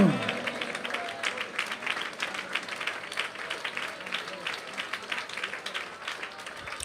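An audience at a Malayalam Christian sermon breaks into applause, a sustained wash of many hands clapping at moderate distance that swells at the start and then holds steady before thinning slightly.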